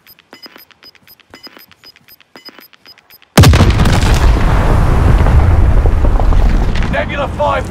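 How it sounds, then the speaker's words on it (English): Nebula V bomb detonating in Warzone, a sudden massive blast that follows quiet clicking and beeping, then a long roaring, rumbling wash that stays loud until the end. "Nebula 5 bombers detonated in the area."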